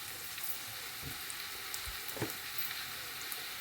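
Onions sautéing slowly in a pan for a Jaffna crab curry, a steady soft sizzle with a few light scrapes and knocks as they are stirred, alone and fairly quiet.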